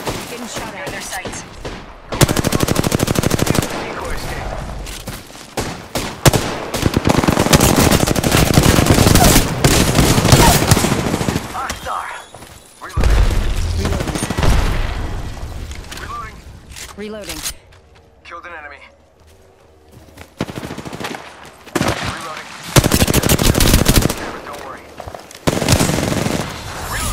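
Gunfire in the video game Apex Legends comes in loud, repeated bursts of rapid automatic shots with brief lulls between volleys. Voices are heard at times.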